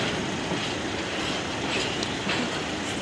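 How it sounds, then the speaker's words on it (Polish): A long train led by an SU-42 diesel locomotive rolls past a level crossing in Elbląg with a steady, loud rumble of wheels and cars, no voices. "a teraz jedzie taki pociąg z lokomotywą SU-42 na czele"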